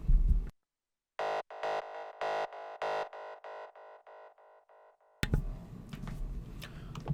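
A psytrance synth patch built in Serum fires a fast run of bright, punchy stabs whose delay echoes repeat and fade step by step into silence, before a burst of noisy sound cuts in at the end.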